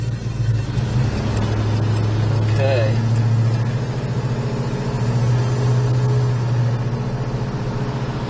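A 1969 Plymouth Road Runner drives along, its engine droning steadily and loudly from inside the car with a brief short word spoken partway through.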